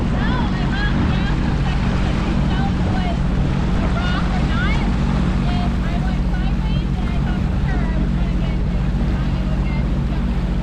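Jet skis run on the Santa Fe River near Ginnie Springs in Florida, a steady engine drone with water wash and wind buffeting the microphone across the whole stretch, with faint voices underneath.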